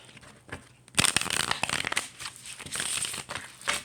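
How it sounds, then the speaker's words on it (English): Tarot cards are shuffled by hand in close, crisp bursts of riffling and flicking, louder in the middle and quieter toward the end. "You see me shuffling these good"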